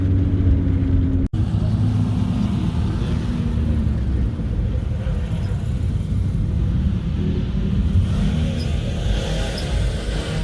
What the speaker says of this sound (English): It's all the cars staging out there.